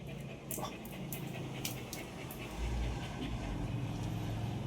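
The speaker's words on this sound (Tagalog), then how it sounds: "Hiningal ka na ng ganyan. Grabe naman. Lakas ng hingal mo." A dog panting heavily and rapidly after barking, steady breathy rhythm close by over a background of passing road traffic, no speech.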